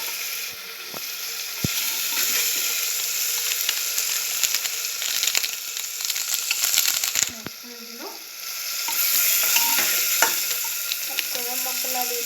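Rice frying with spices for egg biryani, stirred in a pan with a steady loud sizzle and rapid scraping, clicking strokes of the spoon, and faint voices toward the end.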